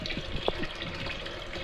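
Water runs from a household tap into a container, a short stretch of steady trickling and splashing with a couple of small gurgling bursts, close and fairly soft.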